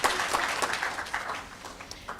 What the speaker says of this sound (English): Just another hand of applause for the panel.